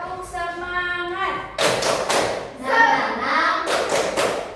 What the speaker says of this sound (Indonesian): Ibu mau dengar kalian tepuk semangat